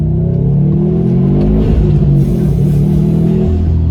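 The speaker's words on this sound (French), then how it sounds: "Est-ce que vous entendez le rugissement que fait le moteur?" A Subaru Impreza WRX STI turbo engine roars loudly and close, holding a deep, steady growl with a brief rev in the middle.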